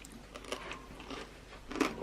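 Roast pork with crackling skin being bitten and chewed, with several crisp, crunchy bites spread across the clip, close and distinct over a quiet background.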